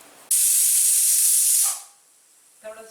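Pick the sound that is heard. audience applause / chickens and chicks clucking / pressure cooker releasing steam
pressure cooker releasing steam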